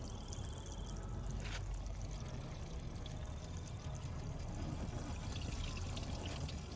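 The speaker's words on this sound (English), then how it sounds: "And spray some water down here." Continuous spray of water from a hose splashing down onto a Volkswagen Passat B5.5 wagon, a steady close wash of noise with faint trickling throughout.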